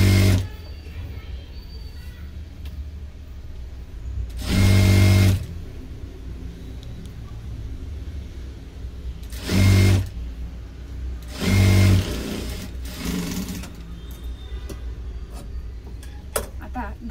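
A sewing machine stitches a double-folded fabric strip for a blouse in several short bursts of whirring, separated by quieter stretches of room sound and someone talking.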